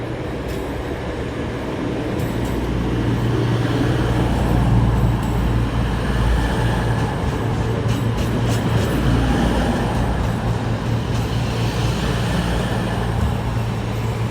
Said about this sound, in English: coming in now is a terminating service from Manchester Piccadilly, terminating here on platform 6. It's a form of a Voyager